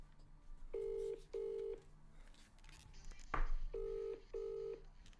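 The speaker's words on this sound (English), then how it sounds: "That's my ringtone for some reason." A phone ringing in repeated paired electronic tone bursts, a steady two-beat pattern with a brief clunk in the middle, fairly quiet.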